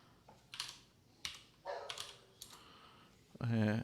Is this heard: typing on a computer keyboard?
yes